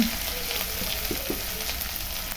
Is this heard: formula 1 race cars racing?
no